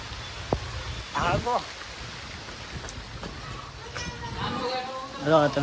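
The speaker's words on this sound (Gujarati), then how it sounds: "ઘડીકમાં જો વરસાદ ચાલુ જ છે જો" Rain falls steadily with a constant hiss, while people talk intermittently over it nearby.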